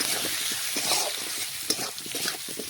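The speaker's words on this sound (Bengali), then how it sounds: "লবণটা ভালোভাবে নাড়াচাড়া করে মিশিয়ে নিলাম।" Onions and potatoes frying in a pan as salt is stirred in, a steady sizzle with scraping spatula strokes in an irregular rhythm, close and moderately loud, no talking.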